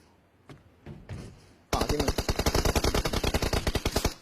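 Gunfire in PUBG Mobile: a few scattered single shots, then a long, loud burst of rapid automatic fire with evenly spaced cracks that runs to the end.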